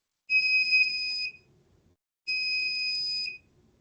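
Two long, high-pitched electronic buzzer tones from an Arduino-style active or passive buzzer, each about a second, separated by a short gap, loud and clear with nothing else around them.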